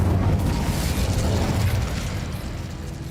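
Incendio fire spell cast in Hogwarts Legacy, a loud, deep, sustained roaring whoosh of fire with a booming low end that tapers off slowly.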